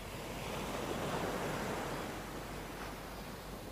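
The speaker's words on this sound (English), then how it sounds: "watching the waves barely touch my shoes" Ocean waves wash steadily at the water's edge, a continuous broad rushing surf that swells slightly and eases, close and fairly soft, with no voices.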